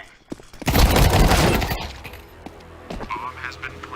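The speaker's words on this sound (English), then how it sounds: "Throwing flashbang." Flashbang grenade going off in a shooter video game, a loud crackling burst lasting about a second followed by a fading rumble, with scattered game effects and voices afterward.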